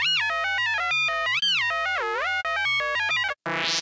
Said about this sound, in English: Today we're making a responsive R2-D2 voice. He can chirp. He can whimper. He can scream. He can growl.